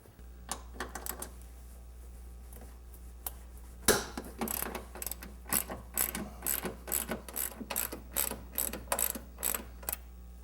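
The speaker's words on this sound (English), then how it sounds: "let's go ahead and take the nuts off and drop the strut out." A ratchet wrench loosens the nuts holding a car's front strut with sharp clicking runs close by. A few isolated clicks come first, then steady rhythmic bursts of ratcheting, with no voices.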